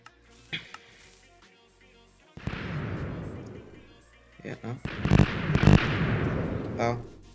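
Cannon shots in a block-building video game fire in bursts, with a sharp early pop and then longer booming, crackling blasts that stack up toward the end, loud and close.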